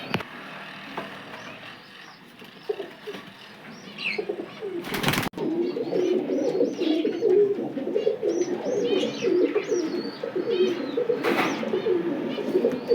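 Pigeons in a loft coo steadily nearby, soft throaty coos overlapping with occasional chirps and a brief burst of wing flapping partway through.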